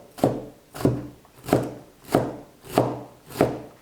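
A kitchen knife dices halved green bell peppers on a cutting board, six sharp, evenly spaced chops close by, each a crisp thud on the board with nothing else audible.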